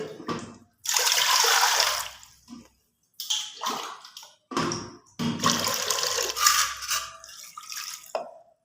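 Water pours in several bursts into a cooking pot holding lentils for dal, loud splashing gushes with short pauses in between, close up and with no talking.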